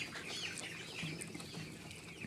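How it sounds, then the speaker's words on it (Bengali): Thirteen-day-old broiler chicks feeding in a shed give soft clucks and peeping chirps over a faint rustle, a quiet, steady chorus heard alone. "আমার ব্রয়লার মুরগির বাচ্চাগুলোতে খাবার খাচ্ছে"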